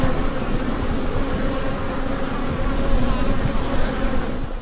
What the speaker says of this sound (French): c'est le moment d'aller voir les abeilles.